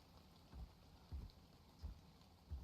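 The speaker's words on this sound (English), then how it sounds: "Wish the rain and fog wasn't here" Steady soft rain hiss in the video game ARK: Scorched Earth, with periodic low thumps every half second or so, faint and distant, no voices.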